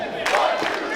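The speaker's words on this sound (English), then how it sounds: "Got the one true chant going right now" A wrestling show crowd at CCW Chaos breaks into a loud unified chant, a swelling roar of voices sounding from the arena in a short burst.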